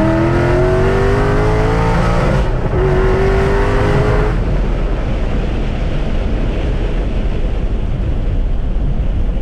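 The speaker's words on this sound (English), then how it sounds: "Let's give you a little hint of what this thing can do on throttle." A modified Ford Mustang GT revving hard on throttle, the engine tone rising and then giving way to a loud, steady roar with heavy wind buffeting.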